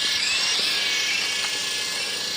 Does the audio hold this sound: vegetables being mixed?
no